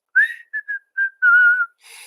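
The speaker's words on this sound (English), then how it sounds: "He's whistling." A person whistling a short, clear tune alone, several pure notes in quick succession, the last one held longer, close and fairly loud.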